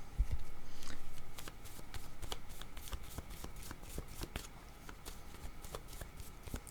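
Tarot cards being shuffled close by in a steady riffling patter of quick repeated slaps and flutters, with no voices over the sound.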